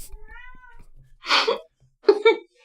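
A pet cat gives a short meow near the microphone, then two more quick vocal bursts follow after a brief silence.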